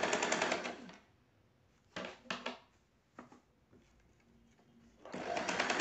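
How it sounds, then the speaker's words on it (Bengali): A sewing machine stitches along the edge of a lungi, rattling fast and close in two bursts at the start and end, with shorter intermittent whirs and clicks between them. "যে দিকে কাঁচা সেলাই দেওয়া আছে সেই দিকে ঘুরিয়ে নিয়ে দেখুন আমি আরেকটা সেলাই দেবো ধার বরাবর"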